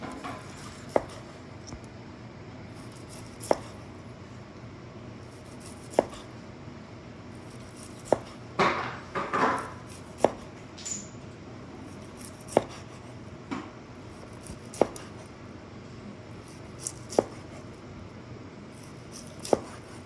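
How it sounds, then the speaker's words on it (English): Cooked pork belly sliced with a knife on a board: sharp, regular thuds of the blade striking through every couple of seconds, with a brief squishy scrape in the middle, close and fairly quiet. "So here's my pork belly. It's pretty much nicely cooked. Now I'm just gonna slice it."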